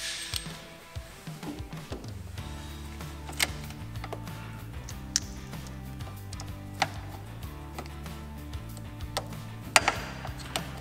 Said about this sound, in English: Crimp the connector.